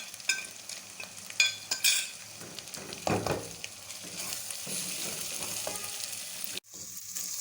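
Spice masala of chili powder, crushed red chili, turmeric and salt fries for tinda keema, close stirring scrapes and taps early on, then a steady sizzle that briefly cuts out near the end.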